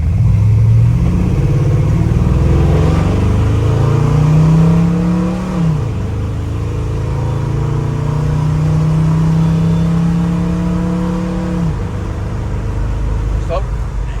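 A 1970 Ford F-100 pickup with a Crown Victoria engine swap and a 600 CFM FST carburetor runs close and loud, revving up twice in long held pulls that drop back to a steady idle, with talk over it.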